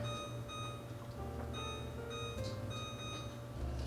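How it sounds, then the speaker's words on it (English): A kitchen timer being set while party appetizers are prepared, giving a few soft electronic beeps over a steady background hum with no talking. "Set the timer."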